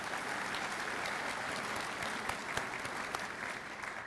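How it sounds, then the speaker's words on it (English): Audience at a military change of command ceremony applauding distinguished visitors, sustained and fairly dense clapping filling a large hall, steady from start to finish. "How about a round of applause for the DVs that we have?"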